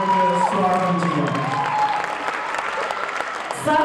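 Audience applause fills a hall as committee members are welcomed onstage before a skit, steady loud clapping with some crowd noise, briefly overlapped by talk near the start.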